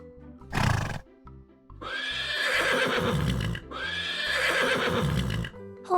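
A farm horse whinnies loudly and close by: a brief snort-like burst, then two long, shrill, quavering neighs with a short pause between them.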